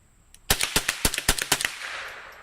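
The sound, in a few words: rifle shots fired in rapid succession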